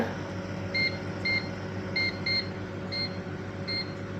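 An oven beeping as its temperature is set to 150 degrees and its timer to 15 minutes for roasting peanuts: a run of short, sharp electronic beeps, some single and some paired, over a low steady hum.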